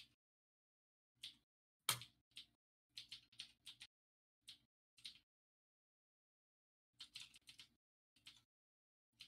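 Keys on a computer keyboard clack in sparse, irregular bursts of a few presses at a time, faint and close, with quiet pauses between them.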